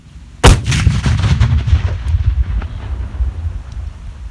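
A single loud, sharp blast of a homemade firecracker booms nearby, followed by a rumbling, crackling echo that trails off over several seconds.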